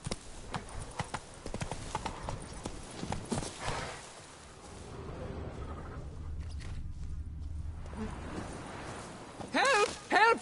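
Roach the horse gallops in The Witcher 3, with hooves pounding in a quick rhythm that fades midway into a low rumble, then returns with sharp clatter. Someone speaks at times, and a horse whinnies near the end.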